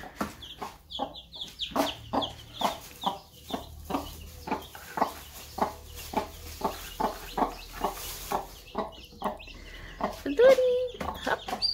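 Mother hen with newly hatched chicks clucking in a rapid, regular series of close, loud clucks, with faint chick peeps and brief voices of people nearby.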